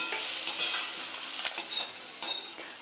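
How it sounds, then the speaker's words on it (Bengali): Fried potato and eggplant pieces are scooped out of a wok of hot oil, a bright continuous sizzle with soft scraping and stirring noises rising and falling. "আলু বেগুনটা খুব ভালো করে আমি ভেজে নিয়েছি এবার আমি আলু বেগুনটা কড়া থেকে তুলে নিচ্ছি"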